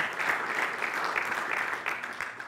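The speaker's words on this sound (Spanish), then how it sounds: "Den un fuerte aplauso al Señor." Church congregation applauding during a Spanish-language sermon, a dense, even wash of clapping that holds steady throughout at moderate loudness.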